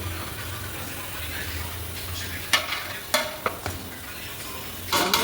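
Fried onions being mashed and stirred in a pan, a steady sizzle broken by several sharp scraping knocks of a utensil against the metal.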